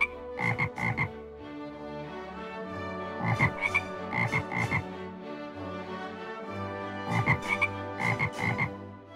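A chorus of frogs croaks in repeated bursts of rapid, rattling calls with short pauses between them, loud and close, with no voices.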